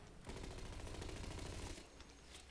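Rapid machine gun fire in Battlefield 1 hammers at a Zeppelin in one dense, continuous burst of rapid close shots lasting about two seconds, then it stops.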